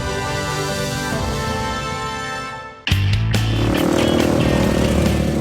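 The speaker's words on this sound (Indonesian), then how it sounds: "Deru suara motor memecah keheningan." Trail motorcycles roar along a coastal beach, starting with a sustained drone that drops out and then a sudden loud, close engine surge that holds steady.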